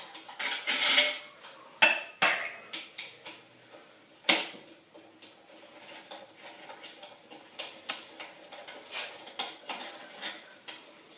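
Small metal engine parts, half-inch bolts from an engine being taken apart, are dropped and set into a magnetic parts bowl, giving sharp clinks and rattles scattered through the clip, close and fairly quiet, with no talking.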